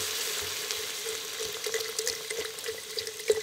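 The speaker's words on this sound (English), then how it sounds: "you're gonna add in 40 ounces of chicken broth" Chicken broth poured into a pot of cooked onions for keto Zuppa Toscana soup, giving a steady hissing, sizzling splash with small bubbling pops, close and moderately loud, no voices.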